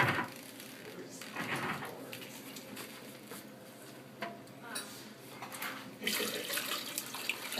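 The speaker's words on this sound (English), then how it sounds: "Now I add a little more water" Water runs and splashes into a pot or sink while homemade mozzarella is being made, in soft irregular bursts alongside faint clinks of kitchenware and a little talk.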